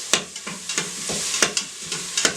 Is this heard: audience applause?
no